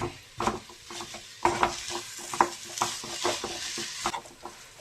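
Mashed banana and jaggery being stirred together in a pan, a close, irregular scraping and squelching with repeated spoon strokes and a light sizzle underneath, no voices.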